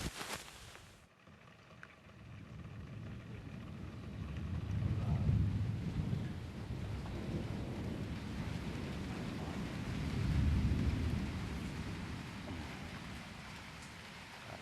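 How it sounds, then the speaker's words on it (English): Torrential rain hisses steadily through a thunderstorm while low rumbling swells rise and fade twice, heavy and continuous, with no voices heard. "there's been ear-splitting thunderclaps and torrential rain coming down"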